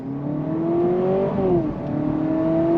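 A 2025 Honda Civic Hybrid Sport Touring accelerates under throttle, its engine note rising steadily, dipping briefly mid-pull, then climbing again, heard close and loud from inside the cabin with no talking.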